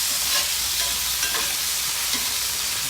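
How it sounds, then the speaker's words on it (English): Scallops with garlic are stirred in a frying pan, giving a continuous close sizzle with a few soft scraping stirs on top and no talking. "so I'm just going to give these a little stir"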